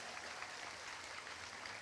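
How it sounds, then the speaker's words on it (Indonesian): An audience at a high school anniversary celebration applauds in a steady, even wash of clapping that fills the short moment without pause. "tepuk tangan untuk SMA pandaan ini"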